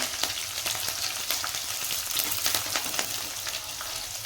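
Four or five green chilies and finely chopped garlic sizzle in hot oil, giving a dense, crackling fry with frequent sharp pops, close and steady with no voices.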